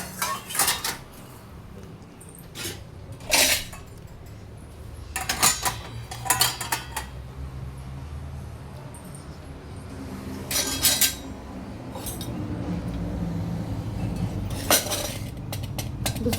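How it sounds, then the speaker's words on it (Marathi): Metal pots and pans clank and clatter as they are set down and shuffled about a home kitchen, with sharp scattered clinks of cutlery and metal, close by and with no talking. "तर हे भांडे लावून घेते इथं"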